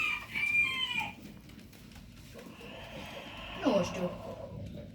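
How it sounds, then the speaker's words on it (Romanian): A rooster, a serama crossbreed, crows among farmyard chickens. A strained crow comes at the start and a shorter squawk near the end, fairly faint, with low background murmur and voices in between. "Cocoșul îmi place."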